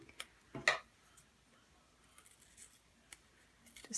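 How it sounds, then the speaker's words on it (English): Teflon-coated scissors cut through a strip of foam adhesive in a quiet room, giving a few soft, crisp snips spread across the moment. "Just take my Teflon scissors so that the adhesive doesn't stick to them."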